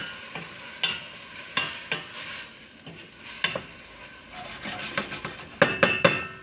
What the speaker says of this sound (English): Now I'm going to stir this to incorporate it.